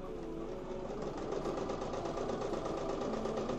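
An embroidery machine stitches out a tic-tac-toe board, humming close and steady with a fast, even mechanical chatter that runs on without pause and with no voices.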